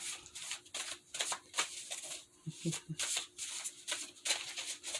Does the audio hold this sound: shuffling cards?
yes